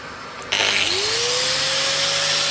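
A Dyson vacuum cleaner switches on inside a Ford Transit camper van, an abrupt start followed by a rising motor whine that settles into a loud, steady, close roar.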